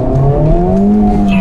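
A Honda FL5 Civic Type R engine holds a loud, close, steady tone that climbs slightly in pitch as it revs, with a brief squeal near the end.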